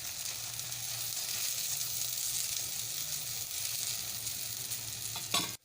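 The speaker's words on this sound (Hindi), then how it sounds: "पराठा दूसरी साइड से सिक रहा है, तब तक हम इस पर घी लगा देते हैं।" Cheese paratha frying in ghee on a hot griddle, a soft, continuous close sizzle with faint crackling, ending in a quick scraping clatter.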